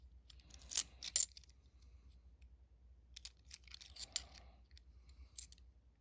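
Coins from opened half dollar rolls clink and rattle in faint, scattered bursts, a few sharper metallic handling sounds against near silence.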